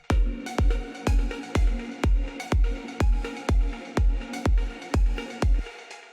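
A melodic house groove: a heavily sidechained kick drum pounds a steady beat of about thirteen hits, the synth melodies pumping and ducking after each thump, loud and close.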